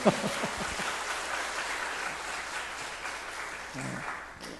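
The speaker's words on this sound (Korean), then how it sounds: "박수 한번 해주세요" Congregation at a Sunday church service clapping, a sustained moderate applause heard from within the hall, fading slightly toward the end with a brief murmur of voices.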